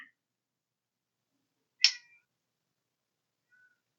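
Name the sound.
cat meowing, crying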